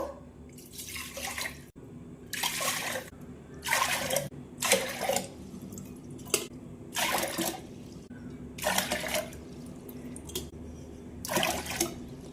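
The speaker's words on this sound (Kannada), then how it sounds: "ಇಲ್ಲಿ ನಾನು ಒಂದು ಕುಕ್ಕರ್ ತೊಗೊಂಡೇನು. ಇದ್ರಾಗ ನೀರು ಹಾಕ್ತೇನು." Eight cups of water are poured in eight separate splashing bursts into a metal pressure cooker, each lasting under a second with short pauses between, close and clear.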